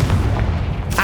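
A Confringo fire spell blasting in Hogwarts Legacy, a dense booming burst that rumbles for about a second, loud and close, with a brighter crackle flaring near the end.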